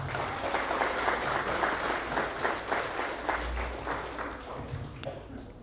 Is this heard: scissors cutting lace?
no